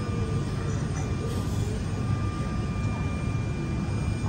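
Inside the cabin of a small passenger plane on the ground before takeoff, a steady engine and air-system roar fills the space, a constant, even hum with no breaks or distinct events.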